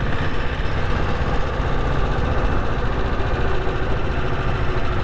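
A 6.5 HP diesel Bullet motorcycle idles nearby with a steady, rough, low knocking rumble that stays even throughout, with no talking.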